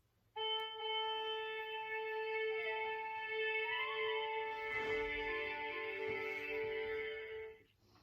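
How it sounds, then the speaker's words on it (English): Orchestra tuning up before a performance, with many sustained instrument tones layered together in a steady hum, a few sliding pitches and a brief rustle in the middle, lasting several seconds before fading out. "Before they start, everyone tunes up to get ready."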